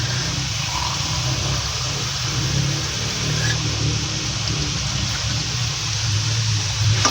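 Water pouring into a cooking pot while making a Filipino bamboo shoot and shrimp dish in coconut cream, a continuous steady rushing stream mixed with a low background hum, heard alone without talk.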